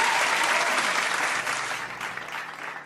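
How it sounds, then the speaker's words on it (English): Applause from a live audience at a football match review show, dense clapping that starts loud and gradually thins and fades toward the end, with no talking over it. "I get another round of applause"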